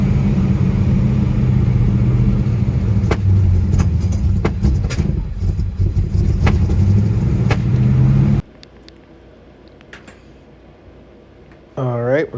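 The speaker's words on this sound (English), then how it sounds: "here's what your carburetor may sound like if your car is running poorly because of a dirty" A Holley carburetor car engine with a dirty carburetor idles roughly and unevenly for several seconds with sharp irregular pops, then cuts off into quiet, followed by a brief voice.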